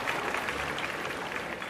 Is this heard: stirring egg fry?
no